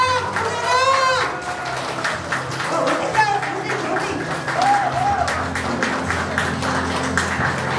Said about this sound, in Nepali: र उहाँको लागि जोरदार ताली सर्नु